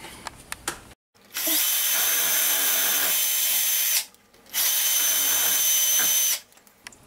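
A power drill bores pilot holes through plaster walls, two loud sustained whining runs of a few seconds each, preceded by a few light taps and separated by a short gap.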